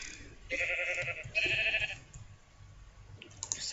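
Two short, quiet bleats of a Minecraft sheep, electronic in tone, separated by a brief pause, over faint background noise.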